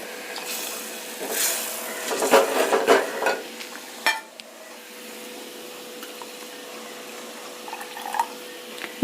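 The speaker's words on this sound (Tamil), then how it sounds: "தேவையான அளவு தண்ணியும் விட்டுக்கலாம்." Water is poured into a pot of pirandai kuzhambu, a Tamil tamarind curry, giving a brief splashing, gurgling pour followed by faint stirring and a quiet simmer.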